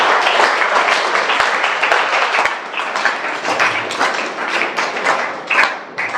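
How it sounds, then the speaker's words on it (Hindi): Sustained audience applause at a scientist workshop, dense clapping filling the whole stretch with steady loudness and a few sharper claps standing out. "जोरदार तालियां सर के लिए।"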